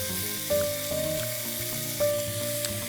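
Marinated grilled chicken sears in a dry pan without oil, a close, steady sizzle with occasional scraping and stirring sounds.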